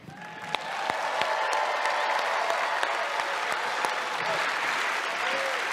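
A large television studio audience applauds loudly and steadily on Penn & Teller: Fool Us, the clapping building quickly and holding at full strength throughout.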